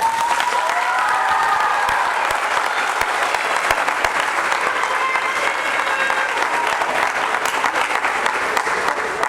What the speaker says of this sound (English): please offer your family and friends your applause